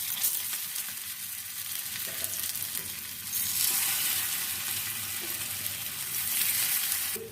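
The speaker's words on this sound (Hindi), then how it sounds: "कबाब की एक साइड को अच्छी तरह से फ्राई कर लेते हैं नॉर्मल आंच पे" Kebabs fry in 4–5 spoons of fully heated oil in a frying pan over normal heat, giving a steady, bright sizzle and crackle that holds throughout, with small bursts and no talking.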